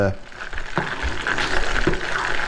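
Steak Diane sauce stirred in a pan, a close, steady sizzle with soft scraping and a few sharp knocks of a utensil on the pan, under light background talk.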